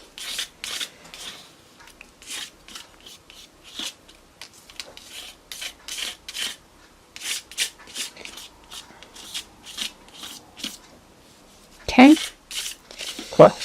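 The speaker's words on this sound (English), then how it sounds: "Scrape it, scrape it, scrape it." Altenew shimmer relief paste is scraped across cardstock in a run of short, rasping strokes, with brief pauses between passes and a voice talking over part of it.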